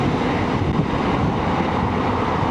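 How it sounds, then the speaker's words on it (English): Steady, loud wind buffeting roars across the microphone without a break while riding a Can-Am Spyder on the highway behind a truck, a dense rushing noise at highway speed. "I'm getting a little buffeting from this truck in front of me."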